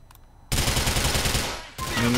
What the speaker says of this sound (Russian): Блять, тут перестрелка.